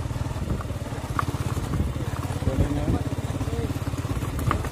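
A vehicle engine chugs along while off-roading on a mountain trail, a close, rough, rapidly pulsing motor note with clattering bumps, running steadily throughout with voices talking briefly over it.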